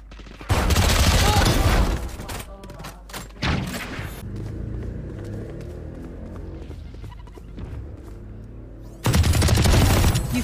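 Heavy shotgun blasts ring out in a Valorant match, with loud, close bursts of fire at the start and again near the end, and quieter game sounds in between.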